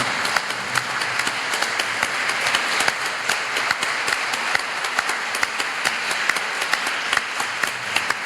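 Audience applause breaks out in a hall during a political speech by Hon. Dr. Eric Hoskins, a dense, steady patter of many hands clapping for about eight seconds with no talk over it.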